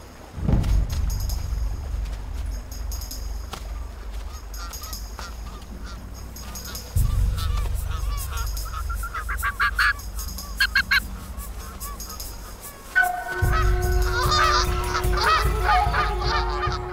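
Canada geese on the open Arctic tundra honk loudly and repeatedly in bursts, nearby and excited, with short pauses between volleys and no talking.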